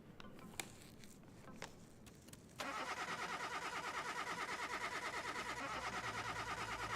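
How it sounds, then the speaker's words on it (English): A Porsche engine cranks and fires, first quiet clicks and fumbling, then a sudden loud start that settles into a steady, rhythmically pulsing idle close by, with no speech. "Does the car start?"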